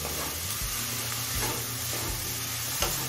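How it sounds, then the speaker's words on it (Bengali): Broccoli frying in a pan while being stirred, a steady sizzle broken by repeated scraping strokes of a spatula at uneven intervals, close and fairly loud, no speech. "ব্রোকলিটা দিয়ে আরো মিনিট 2 ভেজে নিলাম"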